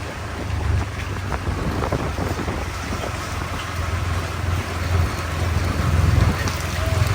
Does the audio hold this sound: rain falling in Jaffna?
yes